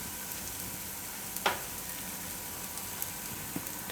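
Soya cheela fries in oil in a pan, giving a steady, even sizzle throughout with a few faint clicks from a utensil.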